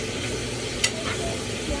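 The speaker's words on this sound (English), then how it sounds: "So I'm frying my hamburger right now" Ground hamburger meat frying in a pan sizzles steadily, with a brief sharp clink of a utensil partway through.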